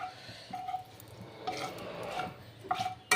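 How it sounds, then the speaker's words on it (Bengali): A bay leaf sizzling in hot oil in a pan, a faint soft hiss with a few light crackles and stirring scrapes, quiet and close. "আমি তেজপাতা দিয়ে দিয়েছি তেলের ওপরে"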